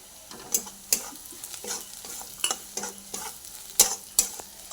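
Chilli, onion, garlic masala and coriander powder sautéed in a pan, with repeated scraping stirs and clinks of a spoon against the pan over a soft sizzle, close and fairly loud.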